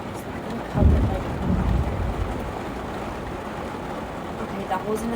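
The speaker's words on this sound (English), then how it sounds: "now it's like downpouring. The thunder, though, is super crazy loud." Heavy rain pours steadily outdoors during a downpour, with a low rumble of thunder swelling near the start and fading into the hiss of rainfall.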